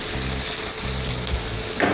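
Chopped onions fry in a pan with a continuous close sizzle, broken by a short stir or clatter near the end.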